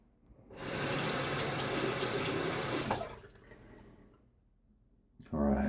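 Tap water runs into a sink as a razor is rinsed, a close steady gush that stops after a few seconds, followed by quieter trickling and a brief clatter at the end.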